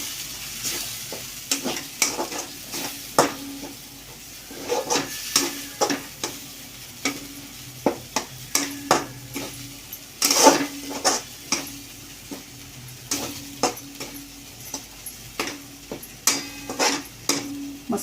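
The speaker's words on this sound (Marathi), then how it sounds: "सगळे परतून घेऊ मसाले." Spices for paneer masala being sautéed and stirred in a pan, with a steady soft sizzle broken by repeated sharp scraping and clinking strokes of a spoon against the pan, close and clear, no talking.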